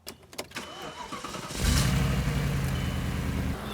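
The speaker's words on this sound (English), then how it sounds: "let's start and have you guys listen to the engine" A supercar engine cranks with a few quick turns, then catches and settles into a deep, steady rumble close by.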